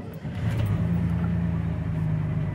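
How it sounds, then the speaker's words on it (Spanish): A Ford Falcon engine, fitted with a CNG kit and running on petrol, settles into a steady idle just after starting, a loud close low hum with a faint steady tone, no talking. "Un espectáculo, arrancó al toque"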